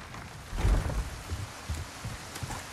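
Rain falling in the video game Resident Evil 4, a soft continuous patter with a few low thumps near the start, heard alone without talk.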